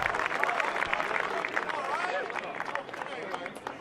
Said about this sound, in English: Well, they heard the applause there